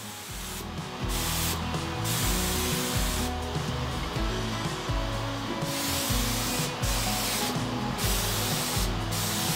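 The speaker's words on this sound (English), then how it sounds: "Now I'm ready to spray, and I'll apply three coats of lacquer" Spray gun applying a lacquer coat to a wood piece, a loud steady hiss of compressed air and atomized finish running continuously, broken by short pauses between passes, with a rhythmic low hum underneath.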